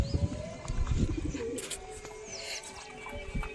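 Close pigeons in a loft with young birds, including a wild-type and a white squab, give low throaty coos in bursts over faint chirps and background noise.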